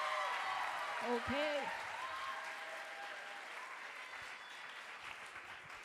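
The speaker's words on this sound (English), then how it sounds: "But clap it up for the poet." Audience clapping for a young poet at a slam poetry finals on a stage, steady sustained applause with a brief spoken word from a host near the start.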